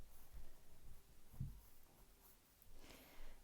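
A pencil sketching on paper, soft faint scratchy strokes in short bursts, close and quiet, with a light breath partway through.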